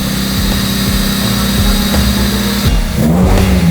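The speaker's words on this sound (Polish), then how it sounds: "apparently it's ready to be started" A Honda Civic fitted with a swapped D16Z6 engine runs loud and close, its engine note rising and falling as it is revved in a garage, filling the whole stretch with no talk.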